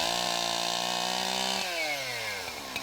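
A chainsaw engine runs loud and close, holding a high revving whine before dropping in pitch as it slows toward idle, alone with no voices.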